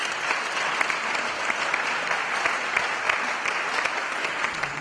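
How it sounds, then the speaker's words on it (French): Church congregation at a revival service claps steadily, a dense, sustained roomful of applause with no voices prominent above it. "On applaudit Jésus!"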